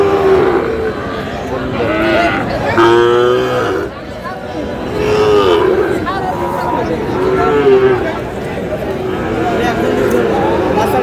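A Sahiwal bull moos several times at a Dinajpur cattle market, its loud, drawn-out calls rising over a constant hubbub of market chatter and livestock noise.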